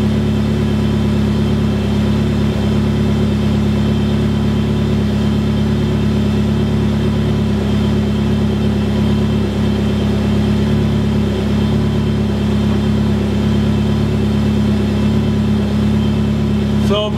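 A Lexus car engine runs steadily on a dynamometer, a loud, constant mid-pitched drone with a strong low hum and no clear revving, close and unbroken for the whole stretch.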